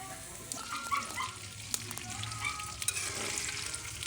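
Meat frying in oil gives a steady crackling sizzle at moderate level with a few stirring clatters; a dog barks faintly in the background.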